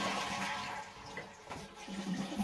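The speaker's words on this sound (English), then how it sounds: "we're going to just flush them." A toilet flushing in a latrine being winterized, a close rushing gurgle of draining water that swirls on through the whole stretch, with no one speaking.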